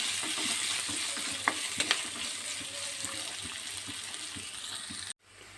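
Curry leaves and onion fry in hot oil for tomato rice, stirred in the pan with a steady crackling sizzle and light spoon taps, before the sound cuts off abruptly near the end.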